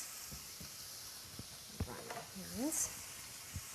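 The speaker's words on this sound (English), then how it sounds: "we're going to crumble it into the hot skillet, like so" Crumbled tofu frying in a hot skillet for a vegan breakfast scramble: a soft, quiet sizzle with a few light taps and scrapes, and a voice speaking briefly partway through.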